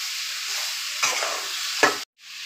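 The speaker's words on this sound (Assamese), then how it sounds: "তাৰপিছত দি দিলোঁ পৰ্কখিনি এয়া দেখিছোঁ ধুনীয়াকৈ লৰাইছোঁ" Pork pieces sizzling in a hot pan with turmeric, continuous frying hiss with two sharper bursts of stirring and scraping, then a brief pause before the sizzle resumes.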